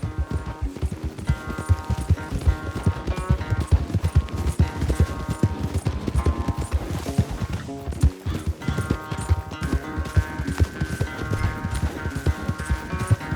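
Horses gallop at full race pace in the Red Dead Redemption 2 video game, with steady rapid clip-clopping hooves throughout, loud and close over a continuous bed of background music.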